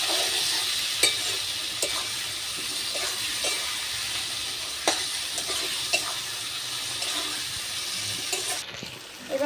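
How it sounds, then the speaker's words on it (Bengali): Mustard paste and fish curry ingredients are stir-fried together in a pan, giving a faint, continuous sizzle with light scraping stirs at a steady pace. "এবার সব কিছু আমি একসাথে ভালো করে কষিয়ে নেব।"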